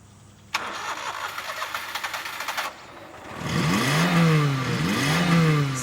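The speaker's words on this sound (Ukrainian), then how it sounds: "Запустіть двигун." A car engine cranks with a rapid starter whir, stops briefly, then catches and revs up into a loud, climbing roar.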